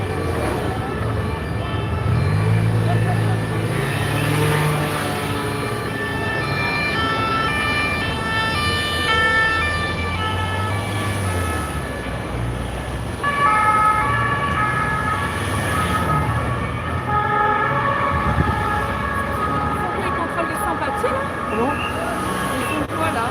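A fire engine siren wails along a Paris street during a march, its rising and falling tone steady and fairly loud over heavy traffic rumble and crowd noise, with people talking nearby.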